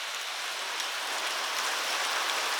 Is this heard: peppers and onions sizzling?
no